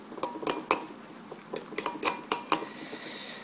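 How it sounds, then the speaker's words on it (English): A fork clinks against a bowl while breakfast ingredients are mixed, with quick, light metallic taps in two short irregular bursts, close by and alone. "then we're going to mix this up with a fork"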